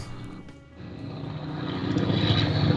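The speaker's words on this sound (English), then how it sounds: "Apparently there was a chopper flying overhead." A helicopter flies overhead near a race, its engine and rotor noise loud and building steadily, drowning out other sounds.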